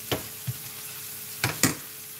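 Salmon frying in a pan with garlic over moderate heat: a soft continuous sizzle punctuated by a few sharp crackles and spits, close and alone with no talk.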